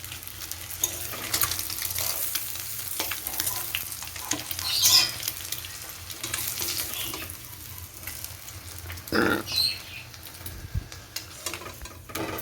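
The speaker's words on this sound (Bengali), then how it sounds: "এরকম করে সব উপাদানগুলোকেই আমি লালচে ভাব করে নিয়ে একটু ভেজে নিয়ে তুলে নেব" Eggs, cauliflower and potatoes fry in a pan with a continuous crackling sizzle, punctuated by occasional scraping stirs and a louder burst of spitting oil partway through.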